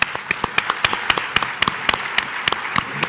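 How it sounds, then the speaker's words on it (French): An audience at a destination-promotion event applauds the Lac Blanc ski resort, sharp individual claps ringing out in an uneven, fairly sparse patter from a modest crowd, fairly close and clear for about three seconds. "Je vous demande de les applaudir très chaleureusement"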